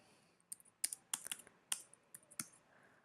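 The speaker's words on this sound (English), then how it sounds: "type a pair of script tags" Typing on a computer keyboard produces a short burst of about a dozen crisp, close key clicks in an irregular rhythm, quiet and alone.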